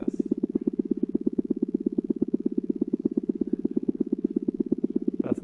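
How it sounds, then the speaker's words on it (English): Sonified pulsations of a subgiant star, slightly larger than the Sun, come through as a rapid, regular throbbing drone, pulsing evenly like a purr at moderate volume, with a brief faint noise right at the end. "If you look at a slightly bigger star than the sun, it would sound something like this."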